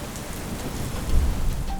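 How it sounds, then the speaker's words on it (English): Steady, close rain driven by a chilly wind, loud and continuous throughout with a slight gust swelling midway and no voices. "The rain was accompanied by a chilly wind now."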